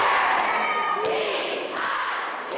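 A fired-up crowd of middle schoolers cheers and shouts at a pep rally before a Friday night football game, a loud continuous roar of young voices with a few sharp thumps standing out.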